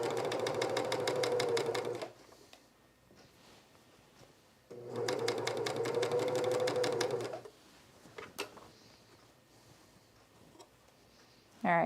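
A sewing machine runs in two steady bursts of about two and a half seconds each along the narrow shoulder seam of a Sydney dress, with quiet handling sounds in the pauses between runs.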